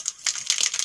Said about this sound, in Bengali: তেল গরম হয়ে গেছে, ফোড়নে দিয়ে দেব এখন সরষে